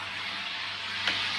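A soda siphon's gas charger cartridge is screwed in, releasing a steady, loud broadband hiss of escaping gas that holds for the whole clip and ends with a faint sharp click.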